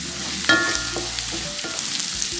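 Green chilies drop into a pan of softened sliced onions for a Kerala beef and tapioca dish, setting off a close, steady frying sizzle with a few stirring scrapes and no voices.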